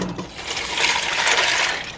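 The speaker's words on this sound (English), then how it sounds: "And I'm also going to add my water." Water is poured into a cooking pot already holding pasta for rasta pasta, a close, steady rushing splash that swells and stays strong for a couple of seconds.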